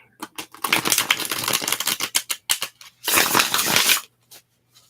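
Tarot cards being shuffled in long rustling, riffling bursts near the microphone, with a brief pause and a short final flurry in a quiet room; no talking.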